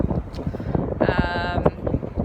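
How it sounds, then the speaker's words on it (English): Strong outdoor wind in Hoboken rumbles and buffets the microphone in uneven gusts, with a brief tonal whine or bleat-like sound rising partway through. "It is very windy here in Hoboken today"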